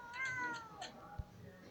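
A small cat in the video game Cats Simulator gives a short run of close, high meows with a brief thump near the end, over faint game background sound.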